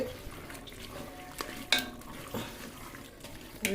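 Meat frying and being stirred in a pan, cooked with green chillies for a festive Eid meal; a steady low sizzle runs throughout, broken by several sharp scraping clinks of a spoon against the pan.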